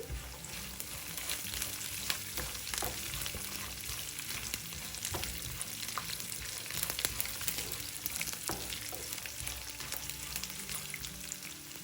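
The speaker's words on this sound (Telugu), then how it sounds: "జీలకర్ర, ఒక 2 పచ్చిమిరపకాయలు వేసి వేయించుకోండి." Cumin seeds, mustard seeds and two green chillies fry in hot oil in a pan for garlic rice, giving a steady, close crackling sizzle with faint stirring and scraping throughout, no voices.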